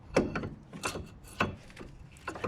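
Metal brake caliper sliding onto a car's brake disc during a brake pad change: several scraping, clunking contacts close up, with irregular rubbing and light knocks over a couple of seconds.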